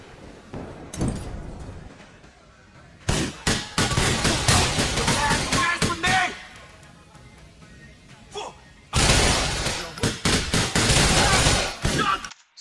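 Gunfire rattles in the video game GTA IV in two dense bursts of rapid, loud shots with sharp impacts and clatter, separated by a quieter stretch with faint background sound.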